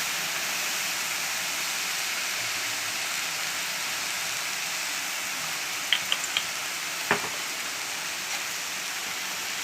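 Salted siru keerai (small spinach) sautés in a pan with a steady, even sizzling hiss. A few faint clicks and taps from stirring come near the end, and no one talks.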